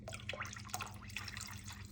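Vinegar trickles and drips into a container of water for preserving vegetables, a close, faint series of irregular splashes and drips over quiet background hum.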